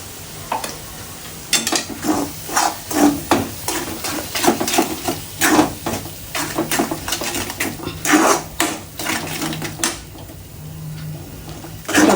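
Ground masala paste stirred and fried in a pan for a Marathi vegetable dish: close, rhythmic scraping strokes of a spatula against metal over a steady sizzle, with occasional clinks.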